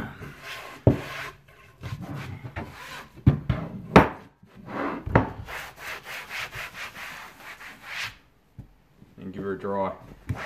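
A slightly damp sponge wipes and rubs across a surface in short, irregular strokes, close and fairly quiet, with pauses between passes and a person talking softly in between.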